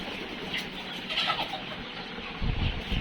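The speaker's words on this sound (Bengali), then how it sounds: "এই যে একটা কালো মুরগি, দেখেন কত সুন্দর" A black tiger breed chicken clucks nearby in short, scattered calls, with a louder burst near the end and little talk over it.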